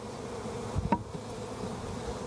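Honeybees drone in a steady, faint buzz during a hive inspection, with a brief closer burst as one passes near, outdoors and without talk.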